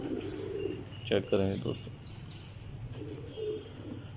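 Racing pigeon at a pigeon-flying competition in Manchanabad, being watered through a tube before release, coos softly in brief bursts with faint chirps, while someone talks close by over outdoor background noise.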